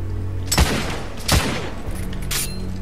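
Heavy gunshots ring out in the video game The Order: 1886, two sharp booming blasts about a second apart, then a fainter third shot.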